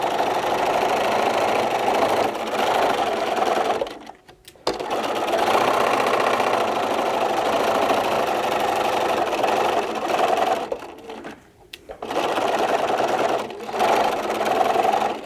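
A sewing machine runs steadily while stitching fabric for a small oven mitt, a continuous close whirring hum broken by two brief pauses where the needle stops.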